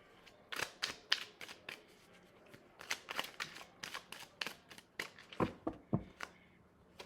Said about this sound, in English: a few more cards